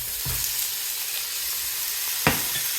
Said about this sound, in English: It is time to throw my rice cakes in.